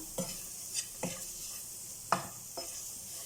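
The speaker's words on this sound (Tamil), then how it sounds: "வாஷ் பண்ணி சீடெல்லாம் எடுத்துட்டு நம்ம இதை ஃப்ரை பண்ணிக்கலாம்" Washed, seeded tamarind fries in a pan with a faint, quiet sizzle, punctuated by four soft spoon strokes spaced about half a second to a second apart, nearby and free of voices.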